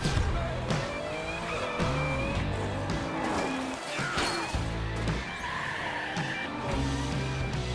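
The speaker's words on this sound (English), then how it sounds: "Oh, there's a skid." Car tires squeal and skid repeatedly in The Crew 2 racing video game, loud wavering screeches over revving engines and a dense, busy race mix.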